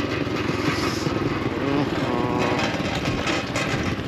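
A motorcycle with broken brakes runs steadily nearby at a racing-horse training track in Kuwait, its engine droning evenly throughout and fairly loud.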